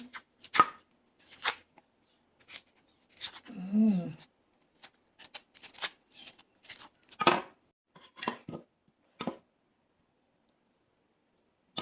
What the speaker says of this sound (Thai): ต่อไปก็เป็นขั้นตอนการปอกหัวหอมนั่นเองนะปอกหัวหอม